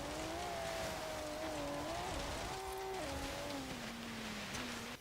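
A 2015 Volvo V60 Polestar engine in Forza Horizon 3 drones steadily and loud, its pitch rising and falling through gear shifts during a snowy hill climb, with no talk over it.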